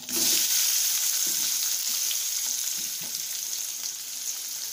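Onions frying in oil with cumin and a little turmeric, a steady bright sizzle that holds throughout, with a few faint soft scrapes of a spoon underneath and no talking.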